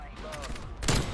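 A sniper rifle shot fired in the Black Ops Cold War video game, a short sharp blast near the end of a quiet stretch of in-game background noise.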